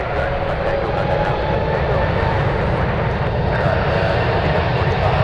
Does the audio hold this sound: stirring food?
no